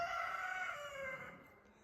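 Free-ranging chickens outdoors give a brief, faint call with a drawn-out tonal quality, fading away within two seconds.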